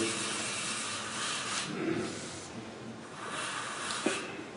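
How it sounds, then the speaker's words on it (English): Steady broadband rubbing and hissing of sandpaper against a spinning wooden peppermill on a lathe, continuous and close, with a few brief louder scrapes. "It's amazing how much force is required for sanding on a lathe."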